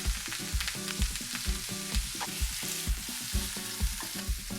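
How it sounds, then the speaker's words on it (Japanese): Rehydrated dried sea cucumber is stir-fried in melted lard with ginger, garlic, carrot, bamboo shoot and shiitake in a frying pan. A steady sizzle runs under quick, rhythmic scraping stirs, close up, with no talking. "フライパンにラードを溶かし、生姜とニンニク、人参、タケノコ、椎茸、そしてナマコを加えて炒めます"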